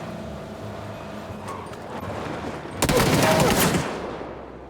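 Rapid bursts of automatic gunfire from a battle royale video game crackle over a low background rumble, swelling into a dense loud volley midway before fading slightly.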